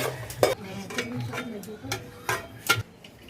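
Coriander seeds and cumin are dry-roasted in a pan for a nalleru spice powder, with repeated metal spoon scrapes and clinks against the pan over a faint sizzle, close and irregular.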